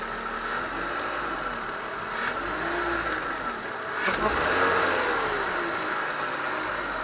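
A BMW E46 engine with a repaired DISA valve idles steadily, close by, then swells in a gentle rev and settles back to a smooth idle, with faint clicks over the hum.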